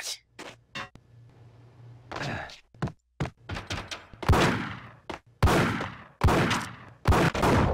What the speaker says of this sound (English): I'm seeing bullets flying around everywhere.